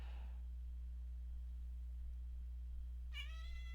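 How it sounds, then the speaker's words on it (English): A single clear cat meow near the end over a low steady electrical hum, preceded by a faint earlier cry, during Football Manager 2014 gameplay. "I don't know if you can hear my cat, but he's being annoying."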